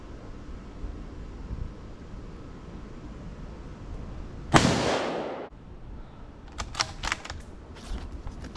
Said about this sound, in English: We're gonna go with the 5 headshots first.